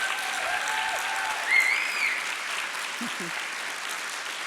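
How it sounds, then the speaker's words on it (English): A nursing pinning ceremony audience gives a steady round of applause for a graduate speaker, even clapping heard at moderate distance with a faint whistle or cheer briefly rising above it. "Another round of applause for Kiera, please"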